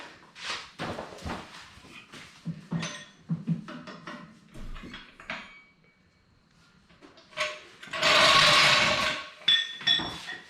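A lug wrench set down during a flat tire change makes scattered metallic clinks and knocks at close range, followed near the end by a louder, dense burst of rattling metal.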